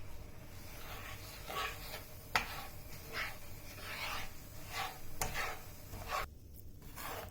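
Semolina roasted in butter for halva: a spoon scrapes and rubs against the pan in slow, repeated strokes, with soft rasping swishes and an occasional sharp knock, close and quiet without talking.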